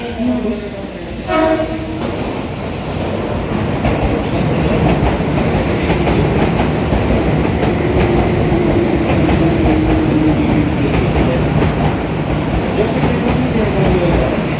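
A 1000-series train pulls into Kanayama station with a loud, steady rolling rumble and rail noise that builds and holds, and a brief tonal horn-like burst near the start.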